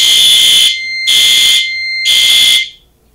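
A fire alarm sounds during a fire alarm system test, blasting three loud, evenly spaced tonal honks of about half a second each, very close and piercing, then cutting off.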